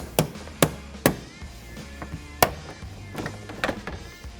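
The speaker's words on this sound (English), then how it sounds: "pry it away from the body clips" Plastic body clips let go with sharp pops as a LandCruiser 300 rear bumper is pried away beneath the tail light: several loud, irregular knocks close by, with quieter clicks between them.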